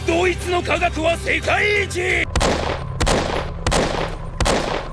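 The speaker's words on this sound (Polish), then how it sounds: "Ja strzelam w niego!" Shots ring out in a video game as a player fires at an enemy, several sharp bursts following a stretch of excited talk, loud and close.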